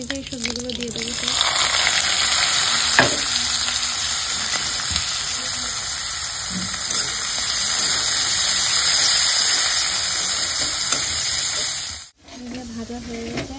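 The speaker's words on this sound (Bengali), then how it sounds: "ভাজা হয়ে গেছে আলু পেঁয়াজ টমেটো লঙ্কা" Potato, onion, tomato and chilli fry in oil in a wok, a loud, steady close sizzle and hiss that runs almost unbroken before cutting off abruptly near the end.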